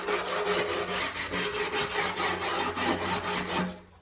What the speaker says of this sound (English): Hence why I'm using a wire brush instead of a fucking drill or something like that.